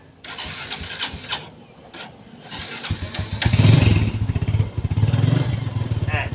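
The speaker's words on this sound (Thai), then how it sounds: "เครื่องยนต์ติดเดี๋ยวครูขอ ติดเครื่องไว้สักครู่นึงก่อนนะครับเพื่อวอร์มเครื่อง" A car engine cranks with a few short bursts after a battery jump-start, then catches and settles into a steady, loud rumbling idle close by.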